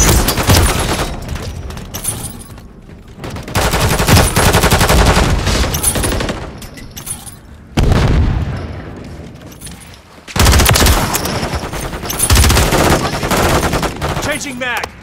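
Heavy automatic gunfire in Call of Duty, loud and dense in long bursts that break off briefly and resume, with game sounds mixed in.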